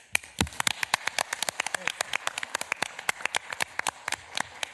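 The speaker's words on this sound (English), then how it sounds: "to offer a round of applause" A small group at a county government work session gives a quiet round of applause, the claps sparse and distinct, spaced irregularly and fading out gradually.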